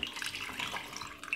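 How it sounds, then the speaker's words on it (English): Water is poured into a glass while making a healthy juice drink, a short, moderately quiet splashing pour with no talking. "Roughly a glass of water."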